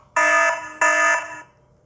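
A Hikvision wireless control panel alarm sounds in two loud, steady electronic tones, each lasting roughly half a second, with a short gap between them. The alarm is heard alone, with no voices.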